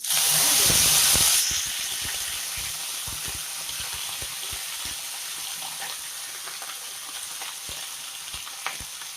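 Cumin seeds, added after mustard seeds, crackle in hot oil, a loud hissing burst at first that settles into a steady sizzle dotted with small pops.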